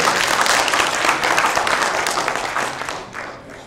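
Audience applause at a Voice of Media convention in Delhi, a dense wash of many hands clapping together, loud at first and gradually tapering off.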